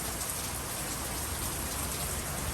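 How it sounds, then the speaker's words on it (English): Steady rain pouring down on an October day in Los Angeles, a dense even hiss of drops on surfaces, close and unbroken with no voices. "And it is raining in Los Angeles"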